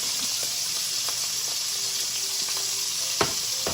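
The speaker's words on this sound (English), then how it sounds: "Our sauce is thickening up." A sweet spicy sauce sizzles and bubbles as it thickens in a pan, a steady close frying hiss with a few soft clinks and stirring sounds, no voices.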